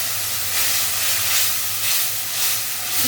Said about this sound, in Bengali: মশলা কষানোর জন্য দিয়ে দেবো জল